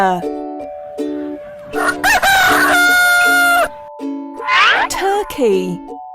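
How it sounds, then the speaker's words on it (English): A rooster gives a loud, sustained cock-a-doodle-doo crow over a plucky children's music track, with a voice naming the bird. "Rooster."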